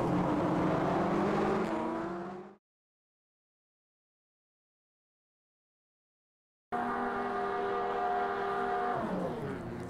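A BMW race car engine at the Long Beach street circuit in the Automobilista 2 racing game, a loud steady drone that drops out for a few seconds of silence and then returns, with pitch shifting as it changes gear.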